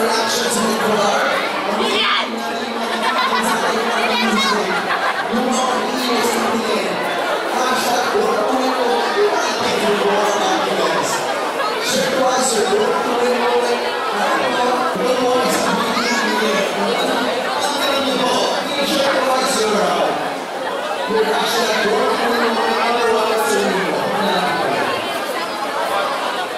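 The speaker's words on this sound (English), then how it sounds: "Interactions in the crowd." Dense crowd chatter fills a mall launch event at SM San Lazaro, a steady loud murmur of many voices with occasional children's shouts and brief cheers throughout.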